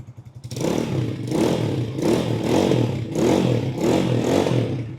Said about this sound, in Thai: โอ้สตาร์ทง่ายมากเครื่องดีนิ่มๆเลยนะครับ